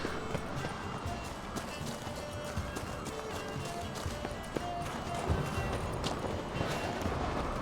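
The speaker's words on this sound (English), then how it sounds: "I thought I heard horses' hooves there for a minute." Rapid hoofbeats of a galloping horse in The Witcher 3: Wild Hunt patter under a busy, noisy background, steady and fairly faint.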